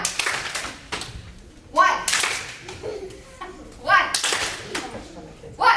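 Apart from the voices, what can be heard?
children clapping hands during an exercise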